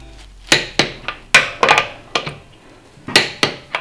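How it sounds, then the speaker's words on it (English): A torque wrench tightens wheel lug nuts during a tire rotation, giving a series of sharp, close metallic clicks and knocks in an irregular rhythm, with no talking. "If this torque is high, you will see here's a click."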